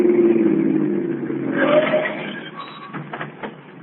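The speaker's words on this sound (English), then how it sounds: "Listen, here comes another car." A car in an old-time radio drama rolls in with a steady engine rumble, then slows and pulls to a halt, its idle dropping away into brief clattering noises.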